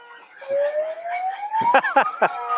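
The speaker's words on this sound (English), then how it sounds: "They have everything here. They've got the horns," A rising wail of a siren-like noisemaker climbs steadily over crowd noise at an amateur soccer match, joined by loud, rhythmic horn blasts toward the end.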